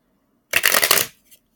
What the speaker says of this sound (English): We're going to have to shuffle these cards.